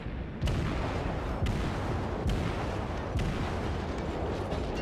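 Loud booming salvos from warship guns in the World of Warships video game come several times at a steady interval, with a rumbling roar continuing between shots.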